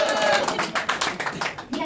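Guests clapping at a wedding in Portugal: a quick burst of several close, sharp claps in an uneven rhythm over under two seconds, with no speech.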